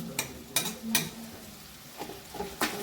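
Quiet sizzle under a handful of spoon scrapes and knocks against a pan as mashed eggplant is stirred into hot tempering, irregular and close.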